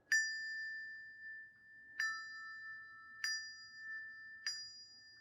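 Handbells rung in a tight sequence, four clear metallic strikes spaced roughly a second apart, each leaving a bright sustained ring that overlaps the next, close and without voices.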